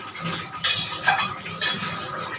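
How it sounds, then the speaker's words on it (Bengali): Chicken for kadai chicken being stirred in a metal pan, with three distinct scraping clinks of the utensil against the pan over a faint sizzle, close by and without talking. "আমি কিন্তু কথা বলতে বলতে অনবরত চিকেনটা নেড়ে যাচ্ছি"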